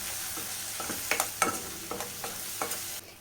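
Fish curry masala powder being stirred into hot oil for a pond-fish curry, with a spoon scraping the pan in irregular strokes over a steady sizzle, fairly close, with no talking.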